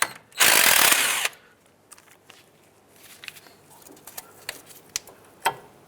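On the front brakes of a 2003-2009 Toyota 4Runner, a 12 mm caliper bracket bolt is worked loose with a ratchet: a short loud rushing burst, then scattered light ratchet clicks and ticks close by.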